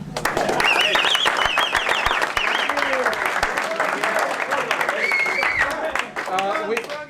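Applause for the US men's national soccer team during its 2006 World Cup campaign, steady and fairly loud across the whole stretch, with voices talking over it.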